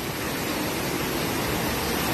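Stream flowing through Squire Boone Caverns, a dense, even rush of water with a hissing wash that holds steady and loud throughout, with no voices.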